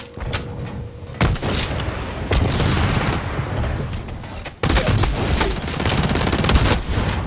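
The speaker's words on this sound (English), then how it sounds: "A jumping off the ladder headshot with a shotty from long range." Blacklight Retribution gunfire, with a shotgun taking a long-range headshot, loud sharp blasts and rattling shots over constant battle noise, with a heavy report near 1.2 s and another near 4.6 s.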